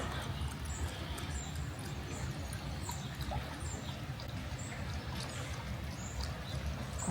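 A small stream runs right in front of campervans parked at a calm campsite, giving a steady, close rushing and burbling wash that fills the whole stretch without pause.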